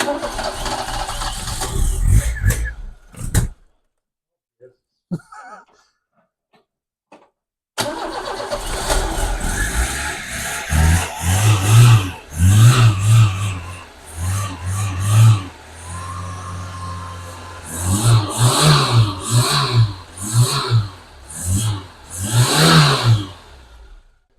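An old 1.3 Vauxhall Nova engine with a new head gasket cranks and catches, then revs up and down repeatedly with a poor idle, rough and loud nearby, with brief quiet gaps and some talking.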